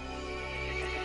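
A horse whinnies in a single drawn-out, quavering neigh, close and clear, with faint hoof clops beneath, in the game Resident Evil Village.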